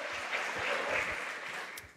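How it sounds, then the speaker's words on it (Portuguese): A church congregation at a worship service breaks into brief, soft applause, a faint wash of clapping that fades away over about two seconds. "Podemos aplaudir o Senhor, Ele é Espírito."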